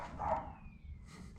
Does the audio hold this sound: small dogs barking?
yes